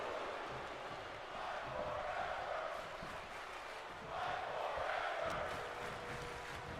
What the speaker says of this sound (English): The crowd enjoying this one.